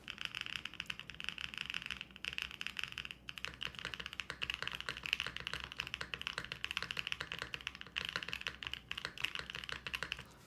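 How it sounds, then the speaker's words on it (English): Typing on a newly built mechanical computer keyboard, a quick, continuous run of crisp clacking keystrokes with brief pauses, close and fairly quiet, with no talking. "it's always nice hearing keyboards that you just build"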